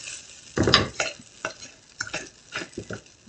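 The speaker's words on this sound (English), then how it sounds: "Now that sizzle is a little louder." Corn cakes sizzle in a hot frying pan while a utensil scrapes and stirs in short, uneven bursts close by.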